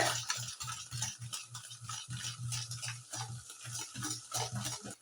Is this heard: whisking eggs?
yes